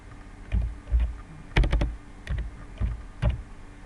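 Keys clicking on a computer keyboard as a Gmail address is typed, a handful of irregular close taps including a quick burst of several strokes, no speech over it.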